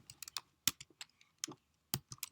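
Quick bursts of computer keyboard typing, close and crisp, with irregular keystrokes and short pauses, entering text in a website slide editor, no voices.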